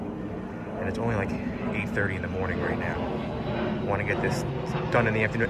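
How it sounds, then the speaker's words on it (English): Airplane flying over near an airport, a steady low engine drone running beneath someone talking outdoors. "And I apologize for the airplane flying over."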